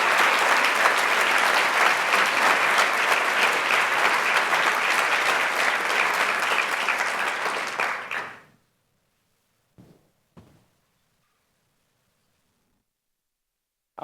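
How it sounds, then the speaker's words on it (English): An award-ceremony audience gives a loud, sustained round of applause for participating universities, dense clapping that fades out after about eight seconds, followed by near silence and a couple of faint knocks. "So can we please have a round of applause for our participating universities?"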